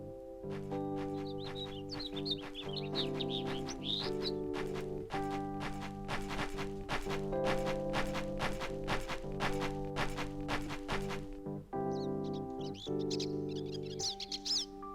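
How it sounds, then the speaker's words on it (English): Migratory bird calls from the video game Star Ocean 3 sound as short, high chirping bursts near the start and again near the end, over steady, sustained musical tones. "A migratory bird."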